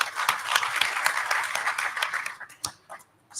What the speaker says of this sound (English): I think he deserves a hand clap as well.